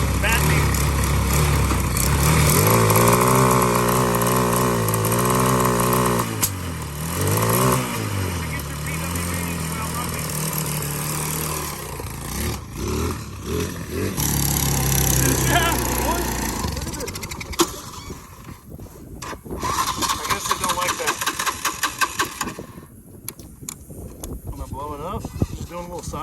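A Yamaha Blaster clone ATV engine runs and revs loudly and close, its pitch rising and falling through repeated throttle blips, with voices talking over it.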